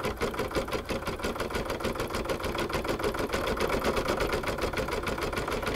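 An embroidery machine sews dense satin stitching over lighter stitching on an in-the-hoop appliqué Easter egg coaster. It gives a fast, steady mechanical whirring with rapid needle ticks, close and continuous with no voices.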